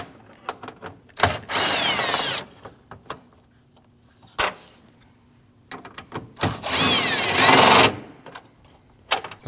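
Impact tool or power drill removing 10mm front bumper bolts on a 2014-2023 Jeep Cherokee, heard as two long whirring bursts and a short one, with scattered clicks and clunks of handling between them.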